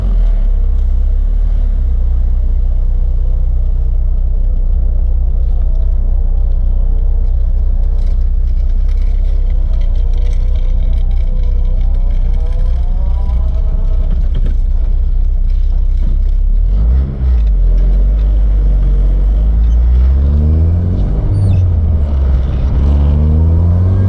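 Acura RSX driven down a street and pulled through the gears after a transmission fluid change, engine note climbing in rising sweeps with shift breaks, loud and close from inside the car, no talking.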